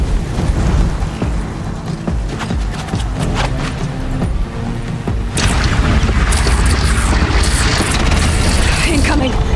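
Heavy cannon booms in the Horizon Zero Dawn video game, loud and repeated over a dense battle din with clattering mechanisms and shouting voices, growing brighter and more intense in the second half.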